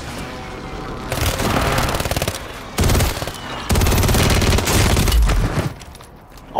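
Loud, rapid video game gunfire in several sustained automatic bursts separated by short pauses, close and dominant, fading out at the end.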